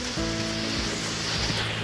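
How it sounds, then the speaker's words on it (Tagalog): Rain falls in a dense, steady hiss outdoors on a Tuesday morning over a garden with bitter melon plants, loud and close, with low tonal rumbles underneath. "Maulan!"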